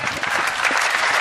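Audience applause at a Hindi comic poetry recital, a dense, steady clapping from a large crowd that fills the short moment evenly and loudly, with no voice over it.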